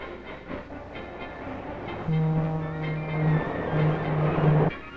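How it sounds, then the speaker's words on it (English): A train rumbles along steadily, close and fairly loud, with a sustained low horn-like tone sounding twice over the rolling noise. "And the train."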